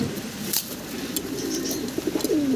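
English Trumpeter pigeons coo up close in a caged farm setting, a brief run of soft, throaty rolling calls with light rustling.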